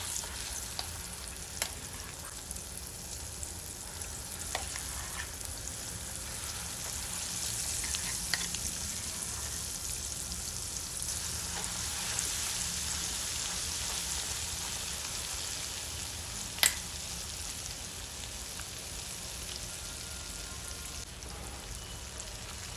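Ground green chillies and gongura leaves sizzle steadily in hot oil, a continuous close crackling hiss with a few sharper pops and occasional spoon scrapes, no talking.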